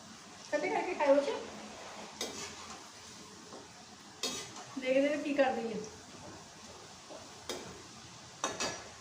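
Potato and onion finger pakoras frying in oil, a faint low sizzle running under bursts of nearby talk, with a few light clicks of utensils scattered through.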